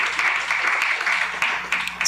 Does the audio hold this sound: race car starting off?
no